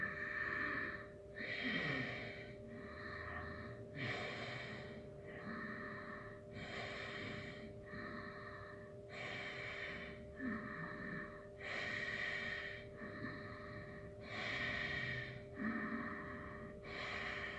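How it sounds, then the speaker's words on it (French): Ujjayi yoga breathing in a guided relaxation session, slow and steady: a long run of hissing, ocean-like breaths in a regular rhythm, each lasting about two seconds, close and fairly soft, with no talking. "Et on est parti pour 15 secondes de respiration Ujjayi."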